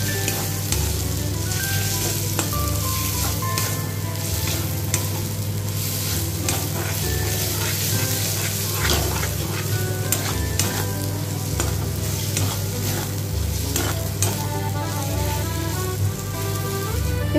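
Turmeric and cumin powder sautéed in an oily pan for an egg and potato curry, loud continuous sizzling with frequent spatula scrapes and stirring clatter throughout.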